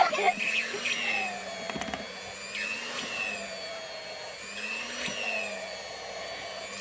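Hand mixer kneading eggless donut dough in a bowl, a steady close whirring motor hum with cyclic pitch wavering as the load shifts, continuing throughout.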